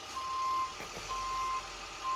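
Reversing alarm of a truck delivering a car outside, two long even beeps with a pause between and a third starting at the end, muffled and moderately distant over a low engine rumble.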